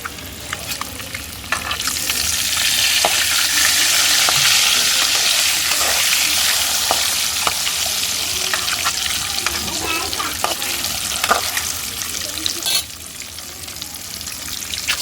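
Eggs fry in a pan until browned, filling the stretch with a loud, continuous hiss of sizzling oil punctuated by sharp pops and occasional scraping, heard close with no talk.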